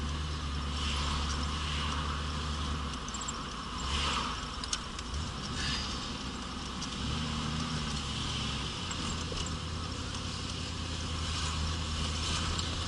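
An old Ford Mustang engine idles low and rough near 1,000 RPM, close to stalling, a steady droning rumble heard from inside the car with no talking.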